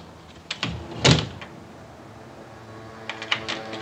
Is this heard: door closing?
yes